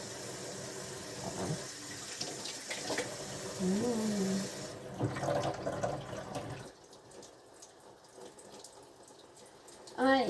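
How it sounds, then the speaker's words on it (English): Tap water running into a kitchen sink while dishes are washed one-handed, a steady rushing flow that shifts in tone as it hits dishes, with a person speaking over it. "That water is very loud."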